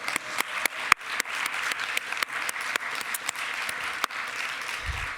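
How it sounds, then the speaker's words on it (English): A conference audience applauds after a panel talk on gender and politics, a dense sustained clapping with sharp individual claps standing out, loud and close, with no speech over it. "Let's give Rochelle another round of applause"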